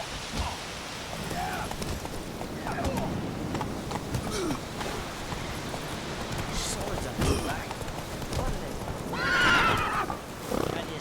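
A horse neighs and gallops in the video game The Witcher 3 Wild Hunt, a steady beat of hooves under a whinny, with a voice speaking over it.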